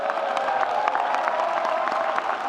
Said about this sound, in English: Let's give a great round of applause first to the Master of Ceremony for the evening, Dr. Todd Esther.